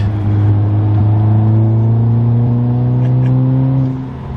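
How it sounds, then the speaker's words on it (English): An Audi S3 engine with a carbon fiber intake revs up through its exhaust, a loud, close droning roar holding a rising steady pitch before easing off at the end. "Let's rip the exhaust on real quick."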